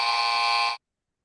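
A timer buzzer gives one loud, flat electronic buzz that lasts under a second and then cuts off abruptly into silence.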